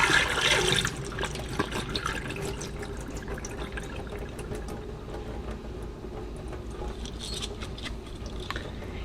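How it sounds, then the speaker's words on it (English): Soaking water poured off wheat berries through a sprouting screen: a strong splashing gush at the start that settles into a steady trickling drain running throughout, close by with no talking. "I'm going to drain this water off"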